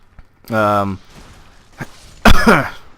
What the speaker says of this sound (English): That cough kind of came out of nowhere.